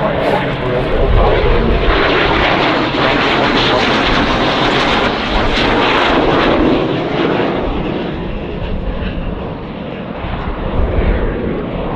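A-37 Dragonfly jet aircraft flying at an airshow, a loud, steady roar of its engines sustained throughout with slight swells in intensity, heard close and without talk.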